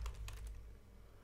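Fast keystrokes clack on a computer keyboard, a quick cluster of light, close taps early on that gives way to quiet background hum.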